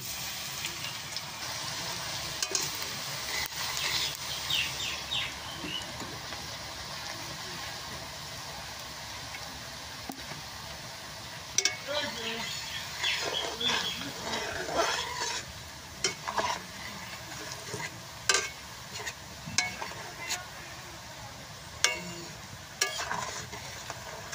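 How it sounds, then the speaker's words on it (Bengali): Banana stem (kol pochla) hits hot oil with a little chili for an Assamese pickle, then steady sizzling runs under repeated clattering stirs and scrapes, close and moderately loud, with no talk. "তেলটা গরম হয়েছে, এখন কল পচড়াটা দিয়ে দিব"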